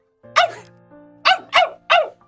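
A dog barks happily in four short, bright barks: one pair at the start, then three in quick succession, close and clear against a quiet background.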